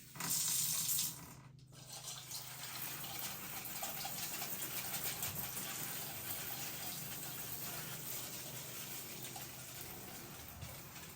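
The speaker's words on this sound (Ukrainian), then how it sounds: "зараз будемо поливати його" Water being poured onto a leafy houseplant in a pot, a brief louder splash and then a steady soft trickle and gush that runs without talk.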